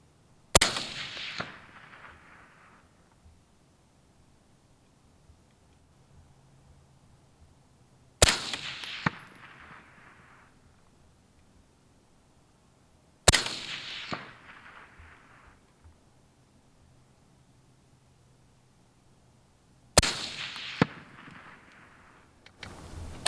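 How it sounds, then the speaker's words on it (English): Four sharp AR-15 rifle shots firing 23.7-grain handloads at a 200-yard range, each a loud crack with a decaying outdoor echo tail, spaced several seconds apart, with no talking. "I'm gonna shoot 5 on this first one"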